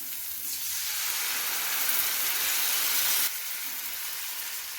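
A soaked paste of coriander, cumin, turmeric and chili powder hits a hot pan with a loud, steady, close sizzle, a dense frying hiss that fades slightly after a few seconds.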